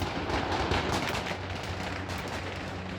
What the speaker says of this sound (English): the Taliban members fired gunshots in the air to disperse the protesters